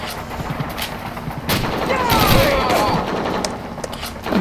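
Gunfire in the Call of Duty 2 video game: scattered rifle shots and bursts crackle across the scene, with explosions and a sustained rumble of battle, close and loud.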